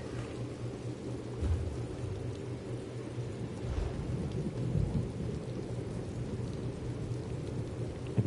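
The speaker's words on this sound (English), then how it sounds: "It's a rainy day in Glimbra." A steady wash of rain in Elder Scrolls Online, with low rolling thunder rumbling in the background and several swells of distant thunder.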